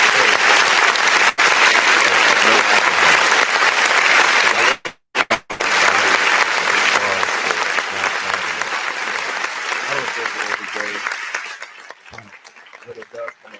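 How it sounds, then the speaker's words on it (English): A crowd gives a long, loud round of applause, with a brief dropout partway through, then the clapping thins and softens toward the end as a voice comes in. "give yourself a round of applause"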